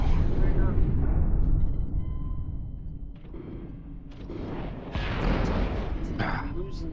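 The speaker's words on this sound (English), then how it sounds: "explosions" Explosions and weapons fire rumble in the space combat game Infinity: Battlescape, a dense roaring barrage with rising bursts and crackling blasts, while a voice talks over the battle.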